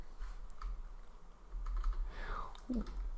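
Keys clack on a computer keyboard, including presses of the tab key, in a quiet, steady run of close, light taps with a faint room hum underneath and a brief murmur of talk.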